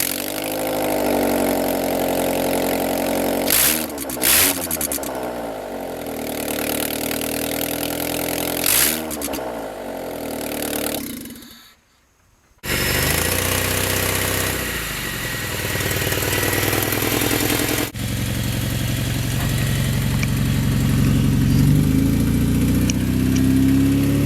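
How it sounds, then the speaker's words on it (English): A Honda Civic with its exhaust headers removed cranks twice, then fires up and settles into a loud, raw, rumbling idle, the uncovered exhaust ports barking close to the listener. "we got the headers off of the Goldy Civic and we're about to start it"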